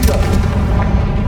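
Confringo blasting spell from Hogwarts Legacy, a loud, deep, booming explosion sustained through the whole short moment, close and heavy with rumbling low end.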